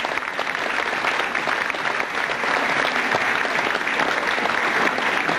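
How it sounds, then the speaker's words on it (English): Sustained, dense applause from a fashion show audience at Bandon Grammar School in County Cork, Ireland, steady and full throughout with no pauses. "Give them a special round of applause, ladies and gentlemen."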